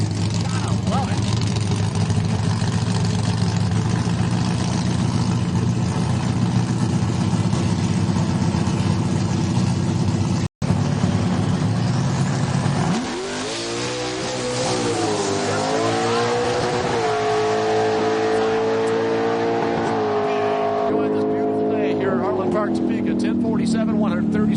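Drag race cars run at Heartland Park in Topeka, Kansas, during 2011 Hot Rod Drag Week, a loud sustained engine roar that drops and then climbs in pitch as a car accelerates away, heavy and continuous.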